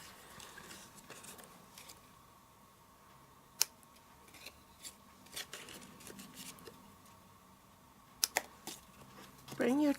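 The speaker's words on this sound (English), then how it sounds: "Release the die cut pieces with a pair of scissors if need be." A few sharp scissor snips cutting die-cut paper pieces sound close by against a quiet background, irregularly spaced, with a brief voice starting at the end.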